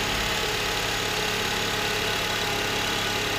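A 2008 Honda Accord's 2.4-liter K24 four-cylinder engine idles steadily at close range, a smooth, even hum with no voices over it.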